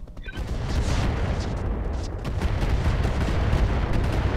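Weapons fire in the mech combat game Roguetech, a dense continuous barrage of low booms and blasts rumbling steadily throughout, loud and sustained with no clear gaps between shots.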